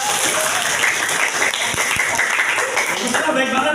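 A classroom full of people applauds a teacher, brisk loud clapping from many hands close by that holds steady throughout, with some voices chattering underneath.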